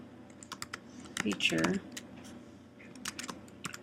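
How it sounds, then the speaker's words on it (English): Fingers tap quick bursts of keystrokes on a computer keyboard while entering server install commands, close and clicky, with someone speaking briefly over the typing. "make sure that we type this right"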